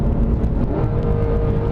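Porsche 991 GT3 engine revving loud and close, a steady dense mechanical roar with a sustained tone and no pauses.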